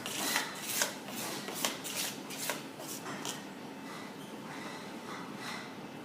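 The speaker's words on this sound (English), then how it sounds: "I'll bring back my Friand pans." Metal friand baking pans shuffled and set down on a kitchen counter, a run of light clattering knocks and scrapes, fairly close, with no talk.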